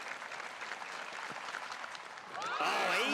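A stadium crowd at a track and field championship in Sydney stirs for a women's high jump attempt, a murmur of voices that swells into loud applause and cheering near the end.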